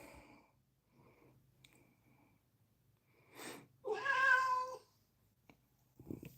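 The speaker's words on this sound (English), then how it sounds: "You gonna meow the door down?" A cat meows plaintively at a closed door, a drawn-out, pitiful meow near the microphone after a short breathy sound, with quiet gaps around it.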